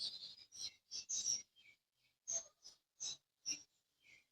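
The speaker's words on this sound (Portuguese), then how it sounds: "olha os passarinhos" Small birds chirp in short, separate bursts, soft and somewhat distant, the high tweets spaced irregularly with quiet gaps between them.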